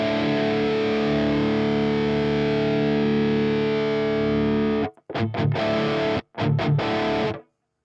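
A heavily distorted electric guitar through a Line 6 Helix holds a thick, droning rock chord, then cuts into a few short, choppy stabs with abrupt silences between.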